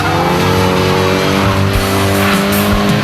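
Tires squeal hard and continuously while a high-revving Nissan S14 drift car engine roars close by at full speed, the screech wavering through a fast slide at Ebisu Circuit, Japan.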